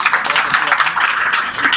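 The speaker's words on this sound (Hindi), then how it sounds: "एक बार और ताली बजा दीजिए" An audience at a computer institute event in India applauds together. The clapping is loud, close and continuous through the short moment, with a murmur of voices mixed in.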